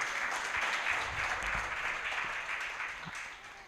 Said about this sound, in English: Please give her a hand clap.